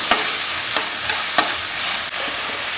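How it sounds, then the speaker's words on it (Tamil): Onions and tomatoes sauté in a pan for prawn thokku, giving a steady loud sizzle with a few stirring scrapes over the top. "நல்லா வதக்கிக்குவோம்"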